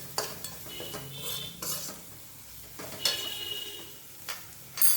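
Spices with black masala and coriander powder being stirred and sautéed in a pan for bitter gourd bhaji, with repeated scraping strokes of a spatula and clinks against the metal, and a faint sizzle under them.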